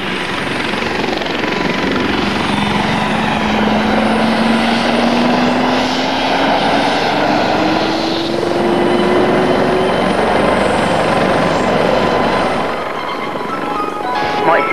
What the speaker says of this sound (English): the helicopter's on its way back home out to Denham